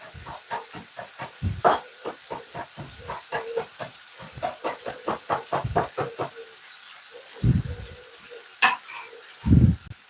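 Onion and cabbage sautéing in a pan with a steady hiss and sizzle, punctuated by repeated stirring scrapes and a few louder clanks of a utensil against the pan; no talking.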